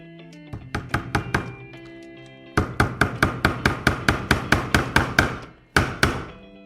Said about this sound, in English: I will put a nail on the right and one on the left